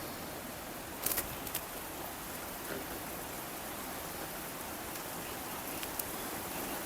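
Steady, soft rain patters on surfaces at a carp-fishing spot by a lake, with a few sharper drip taps, a continuous quiet wash with no talking.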